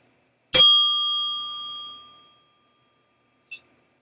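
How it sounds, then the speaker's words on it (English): A single bicycle bell rings once with a bright, clear ding that rings out for more than a second, followed by a brief faint metallic tick, alone with no talk. "That's worth a bell ringer."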